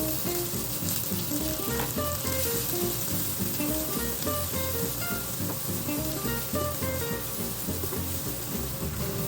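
Red onion fries in a pan for garlic buttered shrimp, giving a dense, continuous sizzle at steady loudness, with a melodic music track playing over it throughout.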